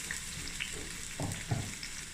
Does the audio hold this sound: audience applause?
no